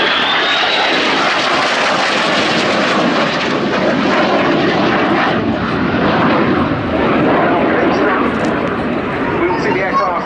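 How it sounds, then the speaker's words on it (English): A Spanish Navy AV-8B Harrier II Plus jet roars past at an air display, its loud broadband engine noise filling the whole stretch steadily, with a commentator's voice running over it. "We will see the aircraft pitching into a max performance turn."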